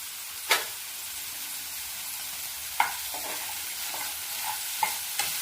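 Spinach and egg stir-fry being stirred in a pan, soft scraping strokes recurring every second or so over a faint, steady sizzle.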